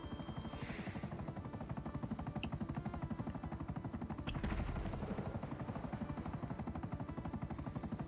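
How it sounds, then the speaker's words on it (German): A helicopter flying in GTA V Online, its steady rotor chop pulsing continuously and loudly throughout, with a brief swell in intensity midway. "Ich bin lange mit dem Hubschrauber nicht mal geflogen."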